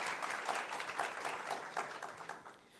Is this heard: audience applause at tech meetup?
yes